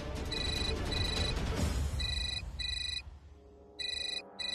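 A telephone rings in repeated electronic bursts of tones, fairly close and clear, with a brief pause between rings and a noisy rumble underneath at first.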